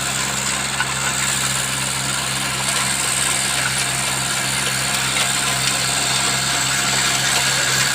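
A driverless tractor's engine drones steadily close by, its even rumble and high mechanical whine unchanging throughout with no voices.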